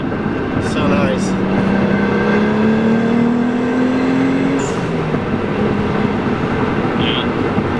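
A Nissan 300ZX with its stock turbo accelerates under boost, its engine note climbing steadily in pitch as it pulls hard, heard from inside the car with loud road rumble and people talking over it.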